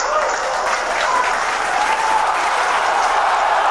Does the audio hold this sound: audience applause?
yes